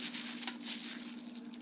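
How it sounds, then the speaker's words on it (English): A plastic grocery bag being laid out flat and handled, giving steady close crinkling and rustling throughout with no pauses. "it picks up really good those plastic bag noises"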